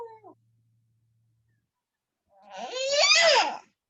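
A cat gives one loud, drawn-out meow close by, after a stretch of near silence with a faint brief sound at the start.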